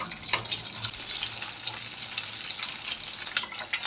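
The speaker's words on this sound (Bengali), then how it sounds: "একটা কড়াই চাপিয়ে একটু তেল দিয়ে দিয়েছি তেলটা আমার একটু বেশি হয়ে গেছে" Oil sizzles and crackles steadily as an egg fries in a wok, with scattered louder pops over a quiet frying hiss and no talking.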